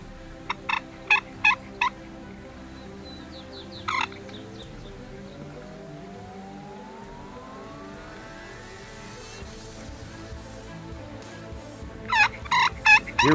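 Wild turkey toms gobble in several short bursts while displaying, with a vehicle accelerating past in the background between calls.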